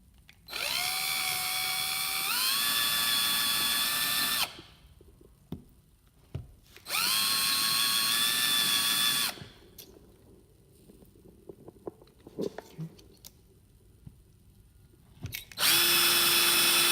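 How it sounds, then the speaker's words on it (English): A power drill whines loudly in three separate bursts, drilling a hole while installing a Chamberlain B550 garage door opener, its pitch rising as it spins up, with quiet clicks and handling noises between runs. "So we're gonna drill a hole."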